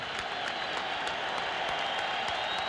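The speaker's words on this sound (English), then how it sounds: "They won't stop applauding." Large arena crowd at a boxing match in Madison Square Garden applauding steadily in a dense, continuous wash of clapping and cheering, loud and sustained throughout without letup.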